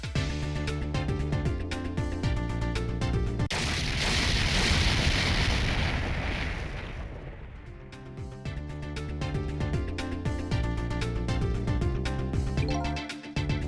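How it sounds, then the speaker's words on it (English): An explosion in the video game Ghost Trick comes as a broad rumbling burst that swells and fades over a few seconds, breaking into ongoing game music that resumes afterward. "I think I heard an explosion somewhere."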